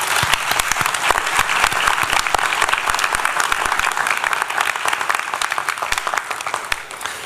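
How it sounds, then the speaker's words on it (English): An audience at a swearing-in ceremony applauds steadily and fairly loudly, dense clapping sustained for about seven seconds with little talk. "You are all greatly appreciated and deserve a big round of applause."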